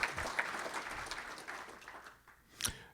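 Applause from an audience at a business chamber event, steady and moderately distant, thinning out toward the end with a brief louder burst near the close.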